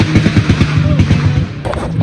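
A motorcycle passes outside, its engine firing in loud, rapid popping bursts that sound like a string of gunshots, pulsing steadily throughout.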